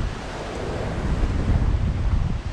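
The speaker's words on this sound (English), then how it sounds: "Watch the excitement of the sea bashing against the rocks." Sea waves crash against rocks below a seaside promenade at Camp de Mar in October, a loud, continuous wash of surf with gusts of wind buffeting the microphone and no voices.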